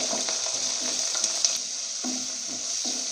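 Steady sizzling of about 150 grams of finely chopped onions frying in hot oil for chicken curry, with a few brief stirring scrapes, close and continuous with no talking.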